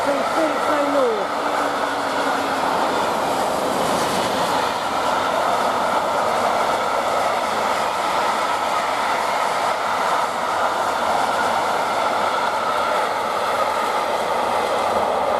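A Freightliner freight train passes steadily through Romford station, its broad rolling rumble and wheel noise holding at an even level throughout, with a brief squeal near the start.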